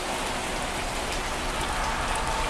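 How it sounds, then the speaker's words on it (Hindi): Heavy rain pours down steadily at night, a dense, continuous hiss of drops striking a surface, with no voices or other sounds breaking through. "तेज बारिश शुरू हो गई।"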